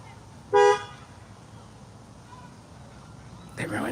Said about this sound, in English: Okay, I'm preparing for this honk.